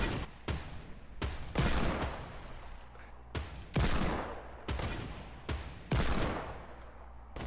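Gunfire in Fortnite Battle Royale, a series of sharp, loud shots and short bursts repeating about every second, each with a ringing echo tail, with no talking.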